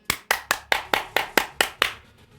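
A single pair of hands clapping slowly, eight sharp, evenly spaced claps, close and isolated with no crowd behind them.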